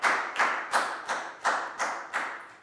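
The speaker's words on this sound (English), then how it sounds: "Big round of applause for Dan" A small group of pupils in a Year 4 maths classroom claps for a classmate in seven evenly spaced, fairly faint bursts, close by and with no talking.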